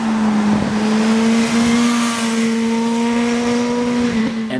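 A 2017 Suzuki GSX-R1000 inline-four sport motorcycle accelerates hard with a loud, steady engine drone and rising pitch, heard close and continuous without talk.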